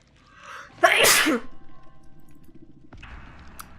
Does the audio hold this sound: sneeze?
yes